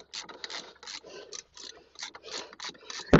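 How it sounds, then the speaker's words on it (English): Tightening front strut bolts on a Mercedes Sprinter T1N with a ratchet: quick rhythmic clicking and rasping in short bursts, close and fairly quiet, ending with a sharp clunk. "We're going to go ahead and tighten up the bolts."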